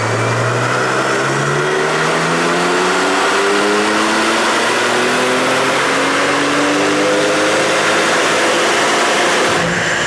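Porsche 992 Turbo S running JB4 Map 1 on 91 octane, loud and continuous, the engine note climbing steadily in pitch through repeated gear pulls with rising harmonic sweeps over about ten seconds.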